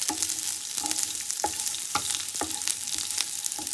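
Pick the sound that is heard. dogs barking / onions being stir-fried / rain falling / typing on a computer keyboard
onions being stir-fried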